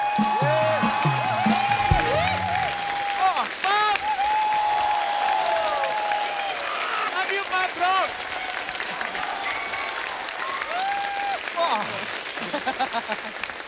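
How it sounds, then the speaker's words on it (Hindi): A television comedy show studio audience breaks into loud, sustained applause with some cheering, a thick wall of clapping that continues for over ten seconds while voices and music carry on over it. "कृष्णा के लिए जोरदार तालियां हो जाए।"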